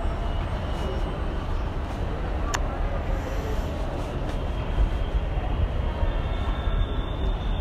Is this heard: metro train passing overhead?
yes